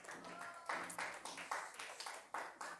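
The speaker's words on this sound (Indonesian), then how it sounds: "tepuk tangan untuk kelompok 2 dan 3" Students in a classroom clap for groups 2 and 3, a short, faint burst of rhythmic hand claps with a few distinct sharp slaps standing out.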